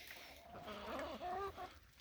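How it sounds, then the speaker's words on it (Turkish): Chickens cluck softly and murmur close by while eating boiled pasta, a steady busy chatter of several birds with occasional higher notes. "Şu anda da tavuklarıma makarna haşladım verdim."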